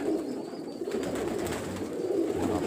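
Pigeons coo steadily and softly at close range through the whole short stretch, with a low, continuous murmur and no voices.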